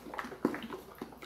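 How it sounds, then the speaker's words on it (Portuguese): Water poured into a bucket while mixing a batch of homemade baking soda detergent, a short splashing and gurgling sound with a few brief bursts, heard alone at moderate level. "Então eu vou estar colocando um pouquinho mais de água."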